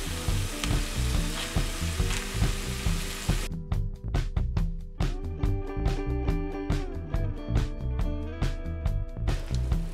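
Ground honey mushrooms fry with onion and carrot for mushroom caviar, sizzling steadily and loudly in the pan. Partway through, a sharp series of rapid crackling pops breaks in over the sizzle, and no voices are heard.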